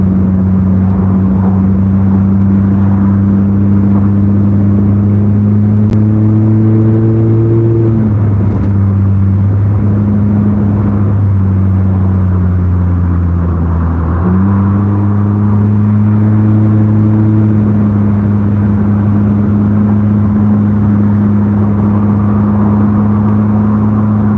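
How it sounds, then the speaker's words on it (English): A loud, heavy truck engine drones steadily close by in Canadian rush hour traffic, its low rumble shifting in pitch as the truck slowly changes gear and crawls along. "Look at that ugly, loud ass, slow truck, man."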